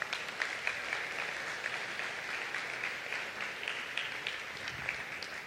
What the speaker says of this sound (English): let us give a round of applause to our Creator